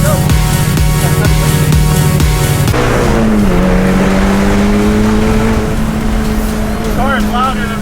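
A loud Mitsubishi Evo X with an aftermarket Tomei exhaust revs and accelerates close by, its engine note climbing and then holding a steady drone, with a voice talking over it.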